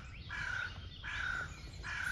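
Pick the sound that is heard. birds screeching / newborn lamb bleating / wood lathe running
birds screeching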